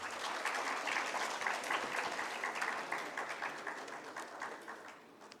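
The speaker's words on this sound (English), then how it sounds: "Ladies and gentlemen, please give a big round of applause to the Professor Chaudhary." Conference audience in a plenary session giving a round of applause to a surgeon, dense sustained clapping that holds steady before gradually thinning and fading out.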